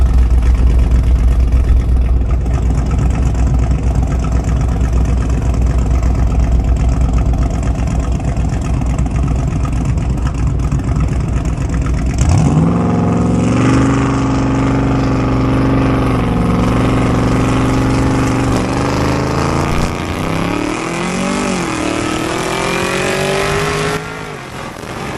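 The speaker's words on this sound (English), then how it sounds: "I'm just going to smash the gas and leave it in sport." A loud engine roars at full throttle, pitch climbing steeply through gear changes as the car accelerates hard, then easing off near the end.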